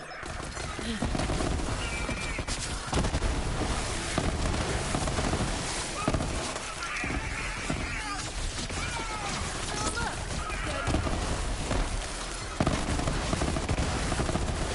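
The Hornet, a corrosive pistol in the video game Borderlands 3, fires in rapid, crackling bursts of sharp shots mixed with hissing, fizzing impacts, loud and continuous throughout, with action noise and talk underneath.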